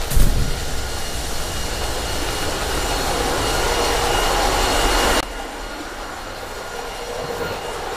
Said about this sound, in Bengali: আপনারা শুনতেই পাচ্ছেন ইঞ্জিন রুমের ইঞ্জিন যেহেতু রানিং কি পরিমাণ আওয়াজ হচ্ছে